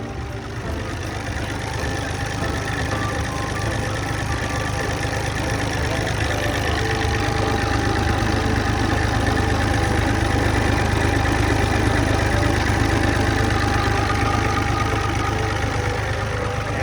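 The Isuzu diesel engine of a TCM 840 wheel loader idles steadily and close by, a constant low rumbling throb with mechanical clatter, no voices.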